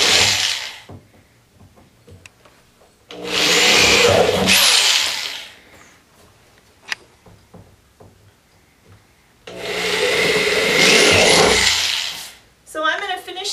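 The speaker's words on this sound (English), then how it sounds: "Once you have all the holes drilled in, and there are 96 of them, so this takes a little bit of time" A power drill bores holes through a plastic garden barrel, two loud sustained bursts of whining drilling separated by quieter stretches of handling and clatter, close up with no talk.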